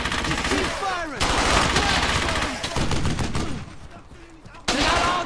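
Rapid bursts of rifle and machine-gun fire in the World War II shooter game Brothers In Arms: Hell's Highway, loud and close, in repeated volleys with brief lulls, while soldiers shout over the shooting.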